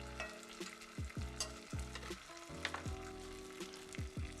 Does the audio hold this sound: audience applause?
no